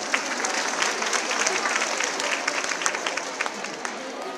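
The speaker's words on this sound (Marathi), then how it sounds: "टाळ्या वाजवायच्या तर जोरात वाजवा." A large crowd at a political rally in Maharashtra applauds, with dense, sustained clapping that stays loud and even throughout.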